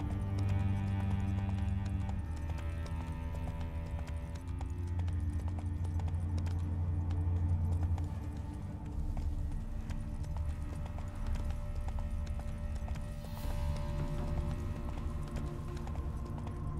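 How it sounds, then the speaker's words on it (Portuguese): A horse trots in the video game The Witcher 3, its hooves clip-clopping in a steady, close rhythm throughout, with a soft game ambience behind. "Pegadas de cavalo."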